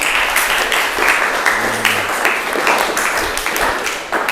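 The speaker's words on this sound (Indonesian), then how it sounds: "Jadi tepuk tangan untuk jawaban Ali." A classroom of students claps together in steady, dense applause, many hands at once, lasting the whole stretch without a break.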